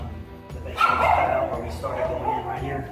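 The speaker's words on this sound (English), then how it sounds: "Excuse the dogs." Dogs bark indoors in a home where baseboard trim is being installed, several loud yaps rising in the middle of the clip over a person talking throughout.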